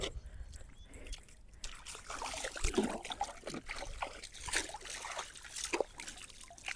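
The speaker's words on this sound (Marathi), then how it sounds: "चला हात धुतो थांब." Hands washed in cold outdoor water, with a close, steady trickle and splashing that rises and falls irregularly, moderately quiet and with no talk.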